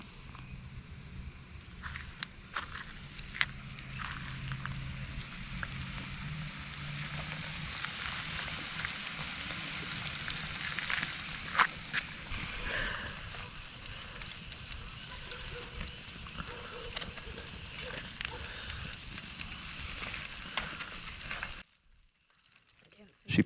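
Fish and onions fry over a campfire, a steady soft sizzle and crackle that lasts a long while, with faint background noises before a sudden drop to near silence at the end.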